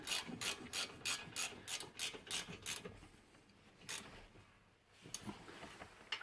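A hand ratchet tightens front brake parts during a rotor and pad replacement on a 2009 Toyota RAV4. Quick rhythmic clicking bursts come close and clear, then pause, followed by a few slower clicks near the end.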